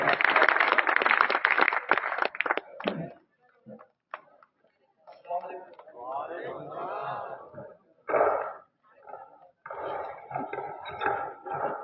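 A live audience claps to welcome a poet on stage at the Jashn-e-Urdu 2023 poetry gathering in Bailhongal. A dense burst of clapping fills the first few seconds, then fades into someone speaking.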